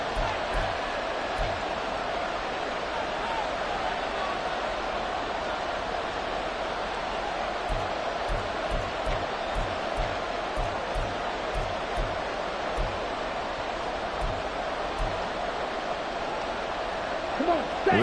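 An NFL stadium crowd roars through the closing seconds of a Packers game near the goal line, a dense, continuous wash of cheering that holds steady for the whole stretch at a distance.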